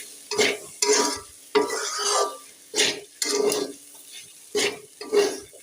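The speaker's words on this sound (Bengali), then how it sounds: "ভাজি চুলার উপরে দিয়েছি ওদিকে লাড়া হয়নি" A potato, bean and cabbage vegetable bhaji is stirred in an oily pan. Each of roughly seven distinct scraping strokes brings a short burst of sizzle, with brief pauses between them, close up.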